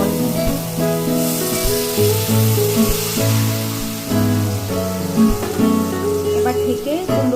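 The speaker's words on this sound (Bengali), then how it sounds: "এবার এর মধ্যে দিয়ে দিচ্ছি কিছুটা পরিমাণ জল।" Water hits a hot pan of pumpkin with turmeric and sets off a loud, steady sizzle and hiss. The hiss holds for several seconds over a constant tonal background.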